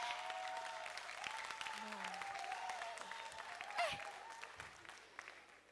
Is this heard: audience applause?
yes